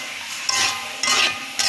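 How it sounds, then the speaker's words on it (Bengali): Salted onions fry in a pan for a catla fish and potato curry, with a steady sizzle broken by three quick stirring scrapes. "এই পেঁয়াজগুলো তাড়াতাড়ি ভাজা হয়ে যায়।"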